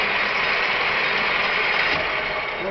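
A 6T82G horizontal milling machine runs with a loud, steady mechanical drone and hum, unbroken for the whole stretch, close by and without speech.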